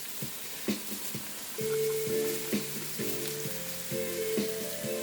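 Curry frying with garlic and ginger for a spicy turkey masala, a steady close sizzle and crackle in the pan with recurring stirring scrapes and soft tapping, no voices.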